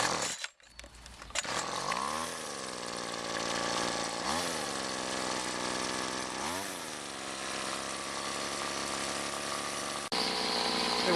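A Weedeater Featherlite FL20 string trimmer engine starts after a short pull and then runs continuously with a buzzing two-stroke drone, revving up several times in rising and falling sweeps, loud and close throughout.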